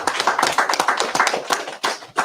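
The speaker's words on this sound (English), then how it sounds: "Clap it up." A congregation at a High Holy Day service claps hands together in a steady, fairly loud burst of overlapping claps lasting a couple of seconds, with a brief lull near the end.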